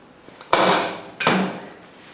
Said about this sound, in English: I'm going to drive a staple